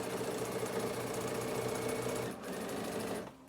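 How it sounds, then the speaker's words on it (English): A sewing machine runs steadily, top stitching rows along the edge of a fabric phone stand, with a fast even mechanical hum close by before slowing and stopping near the end. "Now I'm just going to top stitch 2 rows of stitching down the top section."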